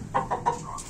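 An ornamental hen in a cage gives a short run of three or four soft clucks, close by, ending in a higher squawk.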